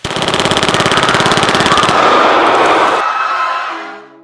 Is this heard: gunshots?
yes